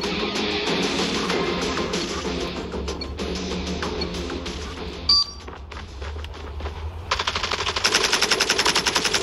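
Rapid automatic gunfire bursts loud and close in a Call of Duty match, with sharp metallic clinks and a brief pause before heavier repeated shots resume.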